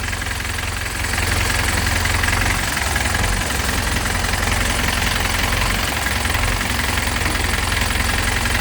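Hino FC9J truck with a 175-horsepower diesel engine running steadily, a loud, continuous low rumble and drone close by that holds evenly throughout with no talk.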